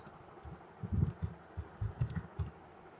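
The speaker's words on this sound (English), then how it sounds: "I need to type here the Gmail address" Quiet, quick keystrokes on a computer keyboard while entering a Gmail address, a scattered run of soft clicks in small bursts against a faint room hiss.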